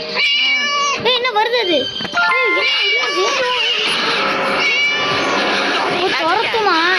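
A cat in the Scary Teacher video game meows repeatedly and loudly in long, wavering yowls, almost continuous, while someone talks briefly over the start.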